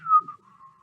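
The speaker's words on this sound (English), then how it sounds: "She stomps cheerfully through the puddles and whistles a song." A single person whistles a short, steady melodic phrase, clear and fairly close, with no talk around it.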